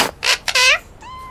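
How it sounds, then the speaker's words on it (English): A cat in the Sherlock Holmes vs. Jack the Ripper video game gives a few short, close meows in quick succession, the last one thinner and more drawn out, with no speech over them. "May I present young Pounce and his cat, Bert?"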